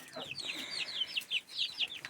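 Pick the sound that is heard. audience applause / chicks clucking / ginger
chicks clucking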